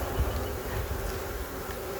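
Honeybees inside a Langstroth hive make a steady, soft, low hum, a dense even drone with no pauses and no voices.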